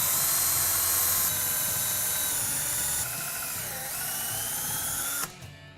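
A power drill bores holes for Acorn Manufacturing flat track hardware, giving a loud, steady high whine that dips slightly in pitch partway through before cutting off abruptly near the end.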